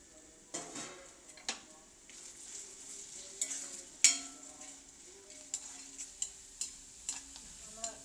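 Sliced ginger fries in coconut oil in an iron pan with a soft, quiet sizzle, broken by sharp intermittent clicks and taps as it is stirred.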